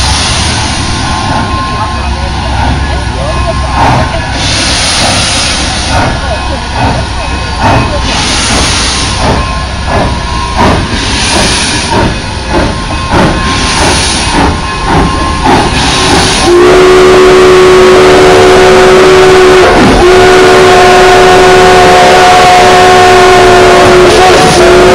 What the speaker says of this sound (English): When he gets closer, cover your ears. They're loud, the whistles.